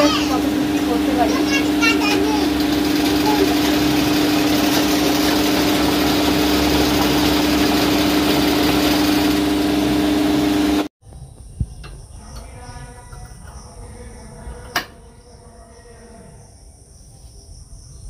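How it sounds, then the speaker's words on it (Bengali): A sewing machine stitches curtain belts from cloth with a steady, humming drone that runs continuously before cutting off abruptly, leaving a quieter room with faint background voices and small knocks. "এখন যে বেলগুলো বানাচ্ছি, উপরে যে রডটা আছে সেই রডের উপরে ঝোলাবো, যার কারণে এই যে মেশিনে সেলাই করে নিচ্ছি"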